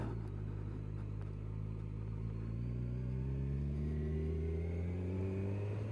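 A Kawasaki Ninja 1000SX sport-touring motorcycle engine drops through the gears into first, a loud, close rumble whose pitch steps and glides as the revs change, with no talking.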